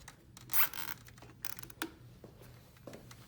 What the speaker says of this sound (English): Now we're going to zip tie that back on there